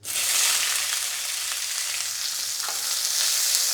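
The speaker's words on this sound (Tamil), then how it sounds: "வெங்காயம் நல்லா வதங்கணுங்க" Sliced onions, including red onion, sizzle steadily in a hot pan for Bombay chutney, giving a dense, continuous hiss with faint stirring scrapes and no voices.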